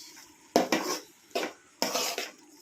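Egg rice is being mixed in a pan, with a spoon or spatula scraping and clattering against the metal in four or five quick strokes separated by short pauses, close by and without talk.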